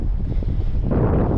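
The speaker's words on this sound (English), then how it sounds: "it is extremely windy" Strong wind buffets the microphone in a steady roar while a boat is paddled through heavy wind, with dense low rumble and no voices.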